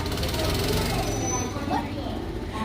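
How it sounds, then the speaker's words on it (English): A Disneyland ride vehicle being driven away by a cast member gives off a rhythmic mechanical clatter and motor hum in a busy park, with a voice talking over it. "That's a cast member putting the car away."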